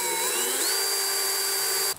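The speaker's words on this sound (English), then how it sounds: "Let's start drilling." A power drill bores into a wall of a solar room while an inverter is being wired. The motor whines up to a steady, high, close whir that holds for about two seconds, then cuts off abruptly.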